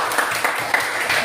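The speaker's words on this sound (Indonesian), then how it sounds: "Tepuk tangan" Classroom clapping as pupils applaud a classmate's score, a steady patter of many hands with no talk over it.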